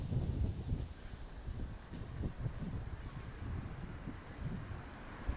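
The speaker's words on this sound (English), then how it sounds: "Sorry about all the wind noise." Strong wind blows outdoors beside Lake Erie, a loud, steady rumbling roar that buffets the microphone in uneven gusts, with no voices.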